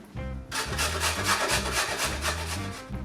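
A carrot is rubbed firmly down the coarsest holes of a box grater in quick, rhythmic rasping strokes, close and crisp with no talking.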